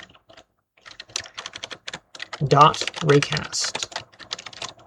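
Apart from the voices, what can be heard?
typing on a computer keyboard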